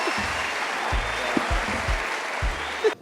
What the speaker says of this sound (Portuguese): Palmas pra mãe do Bibi.